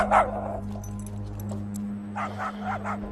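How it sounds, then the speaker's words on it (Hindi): A dog barks in short yips and bow-wows, a few sharp bursts near the start and a quicker cluster toward the end, over a constant low electrical hum. "बहुत भौंक रहा ये कुत्ता।"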